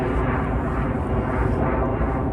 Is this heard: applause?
no